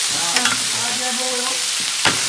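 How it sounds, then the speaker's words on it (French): Pieces for a paella fry in chicken oil with a loud, continuous sizzle. A few scraping stirs come through clearly, and nobody speaks. "dans l'huile de poulet, Une bonne friture là"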